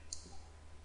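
A single sharp computer mouse click comes up close and short against a faint low electrical hum.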